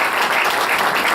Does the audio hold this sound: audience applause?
yes